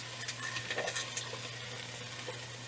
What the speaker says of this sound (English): stirring that cumin right on in there with those seeds into that onion